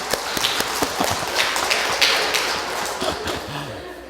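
A congregation in a Catholic church claps during a homily, a scattered run of distinct claps with a rough, uneven rhythm that lasts about four seconds.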